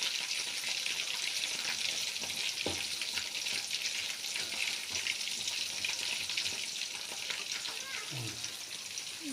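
Chicken frying in a pan for Chicken Manchurian, a loud, dense, continuous sizzle with bubbling crackle and a few scrapes of stirring, no speech.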